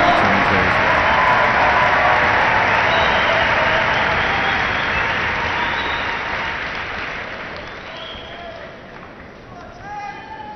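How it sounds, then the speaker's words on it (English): A large arena crowd at a London 2012 Olympic men's table tennis preliminary match applauds and cheers in a steady, dense roar that slowly fades toward the end, with a voice talking over it. "Crowd enjoying this one."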